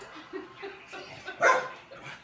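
A dog outside in a yard, just out through the dog door, gives several sharp, agitated barks and yips in quick succession, fairly close, with one louder bark near the end.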